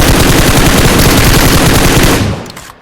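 Rapid, continuous automatic gunfire from the BGMI mobile battle royale game, loud and dense for over two seconds before cutting off abruptly into quiet.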